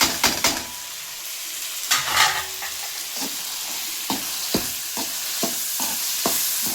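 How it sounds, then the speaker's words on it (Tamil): Tomatoes tossed into softened onions in a hot pan for a nonveg dish, setting off a loud sizzle punctuated by sharp, repeated scraping and clanking strokes of a spatula. Nobody speaks. "இப்போ தக்காளி போட்டுக்கலாம்."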